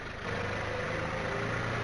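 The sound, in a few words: tractor engine in viral video of tractor chasing lions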